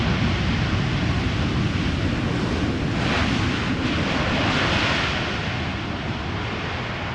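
An airliner arrives at Amsterdam Schiphol Airport in gusty crosswind. A steady broadband roar sits under heavy wind buffeting on the microphone and swells a little midway before easing off.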